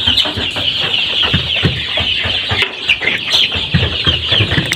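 Sonali chickens on a poultry farm cluck and chatter in a close, busy flock, with overlapping calls and soft scratching filling the clip continuously at high level.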